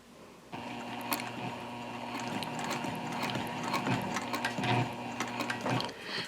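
Sewing machine stitching a zip-top tote bag, pivoting to sew back over a first line of stitching; a steady mechanical whir with rhythmic needle clatter runs continuously after a brief quiet start, close and unaccompanied by talk.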